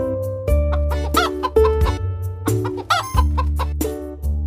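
Several hens cluck and squawk nearby in a busy, overlapping chatter with a continuous low hum underneath.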